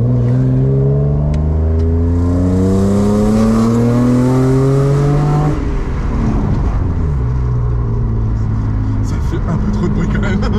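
A BMW E36 325i fitted with individual throttle bodies and a decat exhaust revs up hard, its engine note climbing steadily before easing off into a lower rumble; loud and close, with people speaking over part of it.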